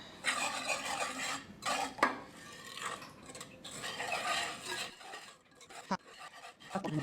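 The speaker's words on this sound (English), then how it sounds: "we're supposed to whisk this" Dry ingredients for a chocolate fig gravy get whisked in a bowl, a close run of brisk scraping and tapping strokes in bursts with brief pauses and a couple of sharper knocks against the rim.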